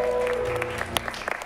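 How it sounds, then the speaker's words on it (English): Audience clapping for the keyboard player at a live improv comedy show, a thinning round of applause with scattered individual claps fading out over a second and a half. "Another person we need to thank and give a big round of applause to is on the keys, Johan."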